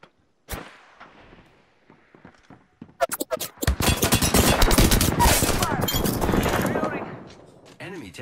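Dense automatic weapon fire in Apex Legends erupts after a few scattered shots, a loud sustained burst of rapid gunfire lasting several seconds, with a voice speaking over the start of the fight.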